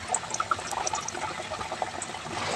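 Potato slices coated in gram flour batter fry in hot oil for potato bajji, producing a dense, steady crackle and sizzle with small popping bubbles close by, and no talking.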